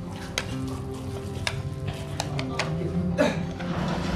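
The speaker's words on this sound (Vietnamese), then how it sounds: "Đấy, cho vào đây xào. Xào vàng lên nhá." Goose meat sizzles steadily as it is stir-fried until golden in a hot pan, with scraping stirs and occasional clinks of a utensil against metal.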